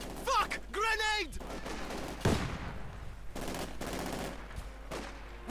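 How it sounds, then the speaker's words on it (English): Light machine gun and rifle fire in Company of Heroes 2, with Grenadiers under fire: a sharp burst of shots rings out midway, followed by scattered rattling gunfire under game voices and ambience. "There you go, getting shredded here by lots of Grenadiers. Veterans who flee. And the light machine gun certainly not helping either."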